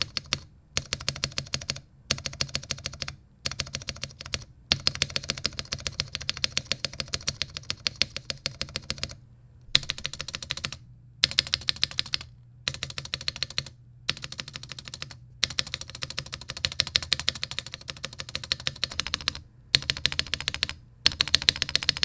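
Mechanical keyboard with TX stabilizers (r3) and Staebies (v2) being typed on steadily, dense clacky keystrokes in close, continuous bursts separated by a few brief pauses, no talking.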